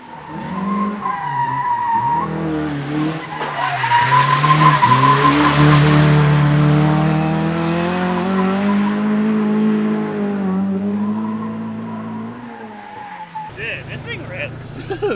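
Toyota AE86 drifting on concrete with tires at about 100 PSI, giving loud sustained tire squeal over a strained engine note, with talk heard at moments.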